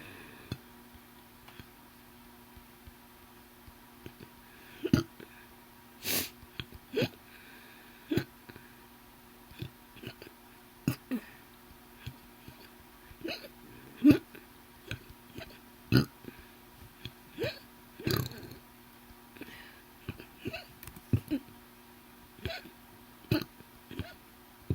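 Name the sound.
hiccups and burping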